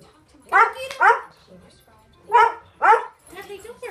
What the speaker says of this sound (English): don't bark at him